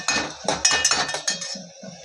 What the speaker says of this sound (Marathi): मस्त हलवून घेऊ।